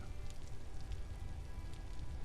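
Rain falls on the ground in the survival game Vintage Story, a steady close patter of individual raindrops with a soft continuous hiss and no talking.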